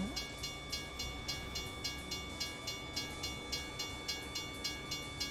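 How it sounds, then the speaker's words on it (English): A train passes a level crossing in American Truck Simulator, giving a steady rolling rumble with a regular rhythmic clatter of wheels on rail joints, moderately loud and continuous, with no voices over it. "I don't need a train right now."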